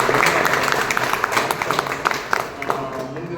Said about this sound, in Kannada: ಅವ್ರಿಗೆ ಒಂದು ಜೋರಾದ ಚಪ್ಪಾಳೆ ಮೂಲಕ